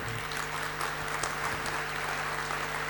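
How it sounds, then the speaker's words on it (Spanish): A conference audience applauds teachers with steady, dense clapping that holds at an even level throughout, with no voices over it. "brindemos un aplauso fuerte a todos aquellos que se dedican a la docencia"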